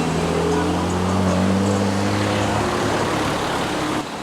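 Road traffic on a road near Matka Canyon, North Macedonia, heard from the roadside while walking: a loud, close vehicle drones past with a falling engine hum, then the noise eases off near the end.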